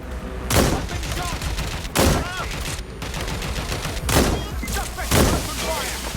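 Gunfire rings out in Watch Dogs: Legion, several loud, sharp shots in quick irregular bursts over steady background game noise, with brief voiced lines in between.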